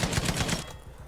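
Rapid automatic gunfire in the video game LVS, a quick burst of sharp repeated shots for about half a second, then fainter trailing pops.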